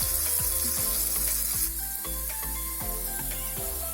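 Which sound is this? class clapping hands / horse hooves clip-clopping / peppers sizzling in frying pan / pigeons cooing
peppers sizzling in frying pan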